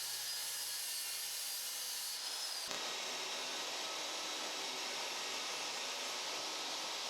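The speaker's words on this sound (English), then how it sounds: "I used some 3/4 inch plywood, which I'm cutting down here" A power saw cuts through a sheet of 3/4 inch plywood with a loud, steady rasping whine that runs unbroken, close up and with no voices.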